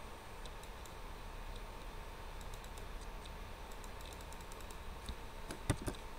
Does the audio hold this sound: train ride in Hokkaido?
no